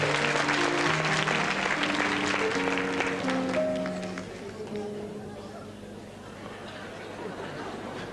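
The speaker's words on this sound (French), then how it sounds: "On l'applaudit très fort." Studio audience applauding loudly on a French children's television talent show, a dense wash of clapping with overlapping chatter and faint tonal music, easing slightly in the second half.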